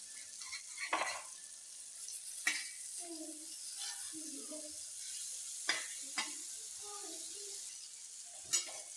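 Fish fries in a pan in a Konkan-style kitchen, with a constant soft sizzle and crackle. Occasional scraping and stirring clatters break through, and a voice speaks faintly now and then.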